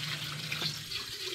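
Tap water runs in a short, steady splashing stream, close by, while a container is filled. No one speaks.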